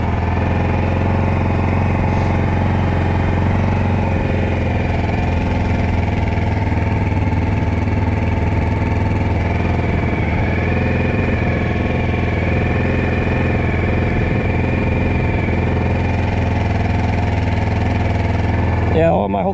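A Honda XR650L motorcycle idles in a garage, its steady engine drone holding at an even, close level throughout with no changes in speed.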